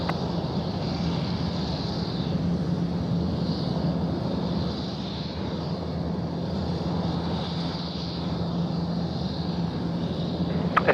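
A steady, distant roar from an Air China airliner taking off at night at Sydney Airport, holding at a fairly even level with slow swells throughout, no talking.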